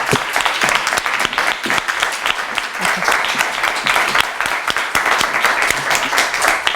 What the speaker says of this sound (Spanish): Voy a pedir un aplauso para Silvia